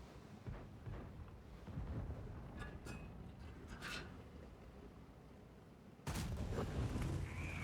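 Heavy rumbling battle noise with scattered distant booms in World of Tanks, then a sudden loud tank cannon blast near the end, followed by sustained low roar.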